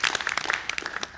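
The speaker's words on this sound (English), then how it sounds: "they really need a round of applause for what they've done today" Audience applause for speakers at a discussion on opioid addiction: a short run of brisk, close hand claps of moderate loudness.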